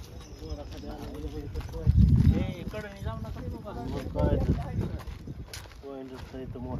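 Hooves clip-clop steadily from a horse cart beneath constant chatter of several people outdoors, with louder bursts of rumbling movement.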